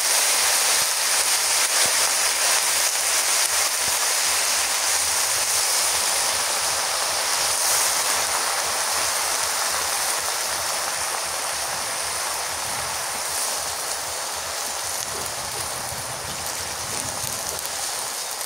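Leafy greens fry in a hot pan with a continuous, even sizzle like steady rain, moderately loud and close throughout.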